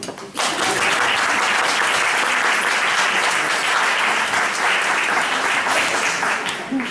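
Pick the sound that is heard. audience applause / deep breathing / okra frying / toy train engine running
audience applause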